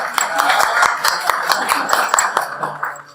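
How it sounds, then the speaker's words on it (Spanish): Applause from a church congregation during an Easter Sunday service, a dense patter of clapping with sharp individual claps, fairly close and steady before tapering off at the end. "un aplauso para la pastora"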